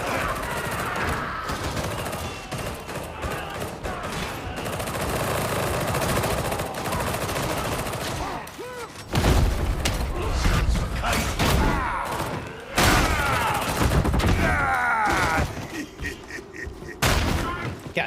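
Rapid gunfire and bursts of automatic weapons in the game Warhammer 40,000: Darktide, dense and loud with repeated volleys and thuds, broken by short lulls and heavy resumptions throughout.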